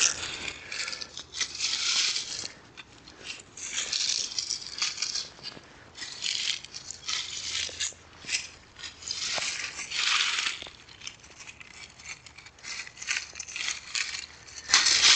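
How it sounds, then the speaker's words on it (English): Hand pruners snip brown, spent perennial flower heads during a spring garden cleanup, giving a steady run of crisp clicks, rattles and crunchy rustles of dry stems and leaves, close up with no talking. "So I'm going to cut those off, and I'm going to use some hand pruners for that."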